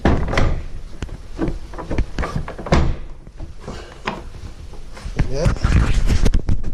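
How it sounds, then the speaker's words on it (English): Heavy old wooden church doors in George's Cove being pushed shut, giving a series of loud thunks and knocking bumps with a few scraping sounds, close up, with someone talking between the impacts. "I'm gonna make sure these doors is closed here now"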